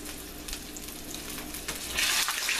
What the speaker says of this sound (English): And these are frying up.